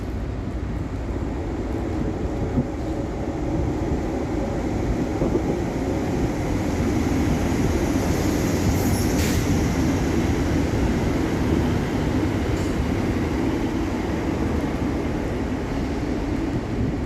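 Scotrail class 158 diesel unit 158711 pulls into Aberdeen railway station with a steady low rumble and engine drone that holds for the whole stretch, fairly loud and close, with a brief squeal partway through.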